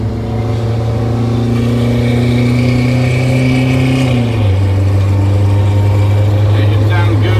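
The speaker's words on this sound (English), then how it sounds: "Engine sounds good, feels good." MCI bus engine pulling under load while driving, a loud, close, droning growl that climbs in pitch, drops at a gear change and holds steady, with people talking over the cabin noise.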